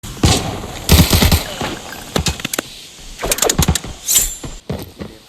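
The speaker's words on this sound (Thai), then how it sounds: "เสียงปืนข้างหน้าเนี่ยมาอีกแหละ" Arena Breakout gunfire crackles in several sharp, rapid bursts separated by short pauses, loud and close with no talking.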